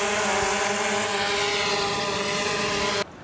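A DJI Phantom 3 Professional quadcopter hovers about 10 feet above the ground, giving a loud, steady buzzing whine with layered propeller tones for about three seconds before it drops off abruptly.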